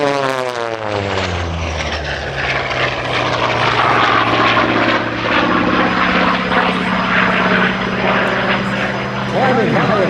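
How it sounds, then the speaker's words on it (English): An aerobatic airplane diving back into the show area at an airshow, its engine droning loud and steady throughout, while a commentator talks over the sound. "Diving back into our show area from the west, off to your right, Brian Sanders in Argonaut"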